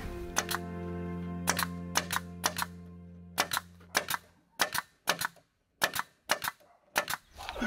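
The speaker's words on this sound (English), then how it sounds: "You become quite the pro with that little nail gun there." A small nail gun fires repeatedly while fastening wood blocking up top in a shed-to-house conversion: a dozen or so sharp, close clacks in irregular bursts, with a steady hum beneath the first half and no talking.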